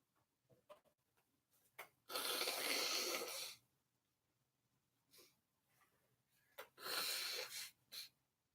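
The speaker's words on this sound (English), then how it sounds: "you just had to hear me blow my nose." Two loud, breathy nose blows a few seconds apart, close up, with soft snuffles and sniffs around them in an otherwise quiet room.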